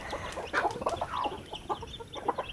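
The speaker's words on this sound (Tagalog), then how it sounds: "Itong mga manok, mga migs, oh." A group of chickens clucking nearby, a scatter of short, uneven clucks and squawks from several birds, moderately close with a quiet background.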